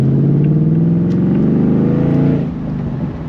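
A 2025 Ford Mustang GT's deep V8 engine revs loudly up close, its throaty rumble climbing in pitch and then settling back to a lower idle.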